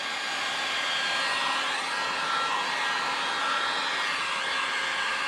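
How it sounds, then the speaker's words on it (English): A heat gun blows steadily at close range while drying water-based airbrush paint, giving a continuous, even airy roar with no pauses and no talking. "You can use a heat gun."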